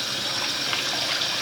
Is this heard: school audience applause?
no